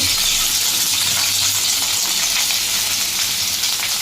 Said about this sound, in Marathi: बटाटा आपण याच्यामध्ये टाकतोय,